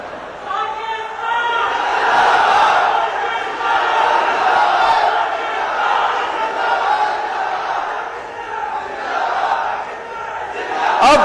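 A large youth parliament audience in Sindh chants a slogan in unison, loud rhythmic shouts swelling and falling over several seconds, with crowd noise between the calls.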